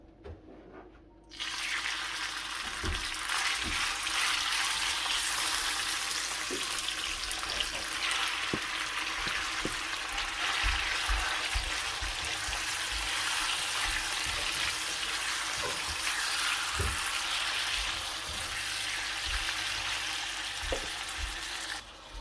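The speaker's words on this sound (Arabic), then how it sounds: "هاي الاثناء انا خليت الصدر الدجاج بالطاوة يتحمص عندي." Chicken breast frying in hot oil in a pan, a steady loud sizzle that starts abruptly and continues with occasional pops and clinks, with no talking over it.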